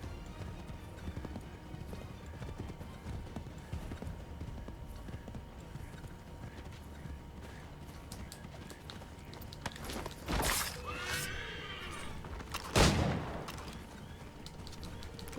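Rhythmic hoofbeats of a galloping horse in Assassin's Creed III, steady clip-clop over game ambience with a couple of sharp louder bursts, including a brief whinny-like sound.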